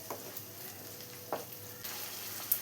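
Ginger-garlic paste sautés with onions in a pan for Kerala beef curry, a faint, steady frying hiss punctuated by occasional spatula scrapes.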